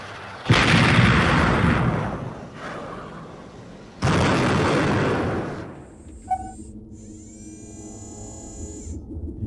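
Heavy artillery fire during a Command & Conquer: Tiberian Dawn Remastered cutscene of a ground attack on troops in Africa: two loud booming blasts with long rumbling decay, followed by quieter whining electronic and mechanical tones.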